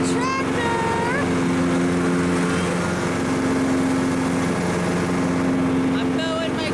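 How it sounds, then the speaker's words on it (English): A riding lawn mower tractor mows grass near a covered bridge in Newton Falls, Ohio, its engine a steady, close drone throughout while voices are heard over it. "I'm mowing my grass."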